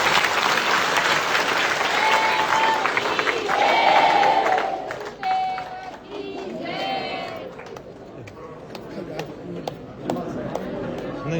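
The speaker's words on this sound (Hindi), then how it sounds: "तालियां" Crowd applause at a religious gathering of devotees, loud continuous clapping that gradually thins out, with cheering and chatter mixed in and a few short whistle-like tones partway through.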